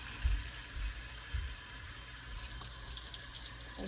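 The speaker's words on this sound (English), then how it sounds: "I'm going to grab my container, rinse it out a couple of times. And then I'm going to fill it up halfway." Tap water runs steadily into a sink as a container is rinsed and filled halfway, a continuous hiss with a couple of low splashy thumps near the start and no talking.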